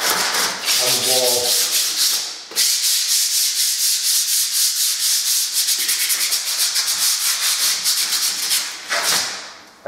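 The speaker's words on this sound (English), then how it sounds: "going on to some rougher sandpaper underneath the edge of the coving and the wall" Rough sandpaper is scrubbed by hand over a plastered wall just below the coving, giving close, loud back-and-forth rasping strokes in a quick steady rhythm with a brief pause partway through.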